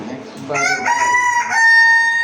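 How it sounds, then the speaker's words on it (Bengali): A rooster gives a single loud, close crow with a rising, drawn-out cry that lasts about a second and a half. "আরে বাইরে ভাই মোরগের ডাক দেখছেন নি?"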